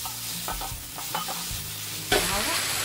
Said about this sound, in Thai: เสร็จแล้วเราก็เอากระหล่ำเราเนี่ย ถูกๆขอบกระทะค่ะ